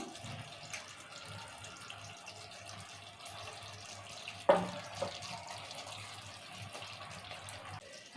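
Quiet running water from a tap splashes steadily into a vessel, with a brief clink of metal partway through and no talking.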